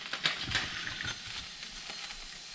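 Trout sizzling in a pan of olive oil and butter, a steady close hiss with soft crackles and a few brief pops, no voices.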